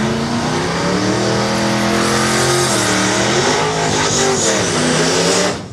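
A Turbo Power LS race car engine revs hard at a drag strip asphalt event, a loud sustained roar with rising and falling pitch that swells toward the end and then cuts off.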